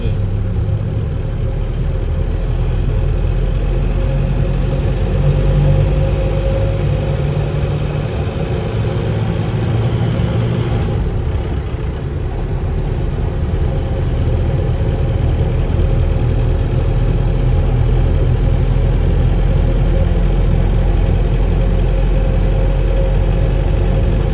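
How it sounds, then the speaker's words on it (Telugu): The engine of a 2017 Tempo van with 2.7 lakh kilometres driven runs steadily near at hand, a loud, continuous low rumble with a brief dip in the middle. "ఇంజన్ సౌండ్ ఎలా ఉంది? స్మూత్గా వస్తుంది కదా."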